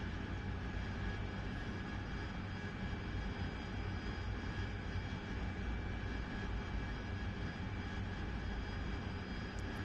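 In the DCS flight simulator, an AV-8B Harrier's jet engine gives off a steady, unbroken roar and whine from the cockpit during air-to-air refuelling, with no change in pitch or level throughout.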